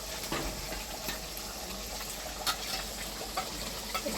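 Goat meat curry being stirred with garam masala paste in a pot over a clay wood-fired stove, a steady close sizzle with soft scraping and occasional liquid sloshes, no talk.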